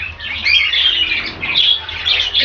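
Small aviary birds, including a tufted rainbow bird, chirp and squawk at night in a busy, continuous overlapping chatter of high calls, close and fairly loud, with no one talking.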